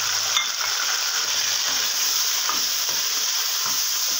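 Tomatoes hit browned onions in a hot pan, producing a loud, dense, continuous sizzle with faint stirring clicks, close and steady, with no talking over it.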